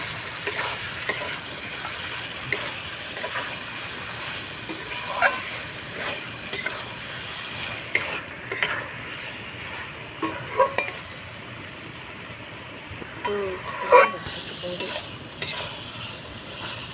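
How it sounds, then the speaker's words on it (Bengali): Boiled green jackfruit is stir-fried with spices in a pan, a low steady sizzle broken by repeated scraping and clinking strokes of a spatula that grow busier toward the end. "কষিয়ে নিতে হবে মশলার সঙ্গে যত সুন্দর কষানো হবে তত সুন্দর স্বাদ হবে তরকারি"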